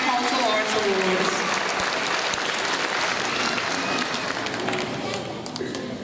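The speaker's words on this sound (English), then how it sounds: "Let's give a big round of applause to these students for earning the All Year Cultural Arts Awards." Loud, steady applause from a school audience honoring elementary students receiving year-long cultural arts awards, a dense wash of clapping that continues for several seconds before tapering slightly.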